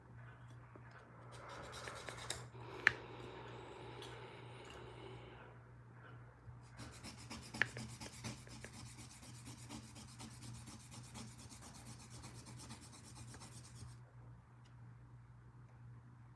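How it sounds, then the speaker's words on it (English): A sander works over a Gunpla plastic model kit part with soft, continuous rubbing and scraping strokes. The sound is quiet and close, with two longer stretches of steady abrasion and a few small clicks. "Spritz the sander."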